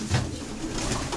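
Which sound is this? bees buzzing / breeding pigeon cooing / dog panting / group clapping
breeding pigeon cooing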